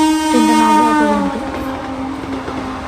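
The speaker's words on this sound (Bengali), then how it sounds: "এখন ওই দিক দিয়ে ট্রেন পাস হচ্ছে" A train approaching a level crossing blasts its horn loudly and close, a sustained tonal honk that bends downward, followed by a steady rolling rumble of the train passing.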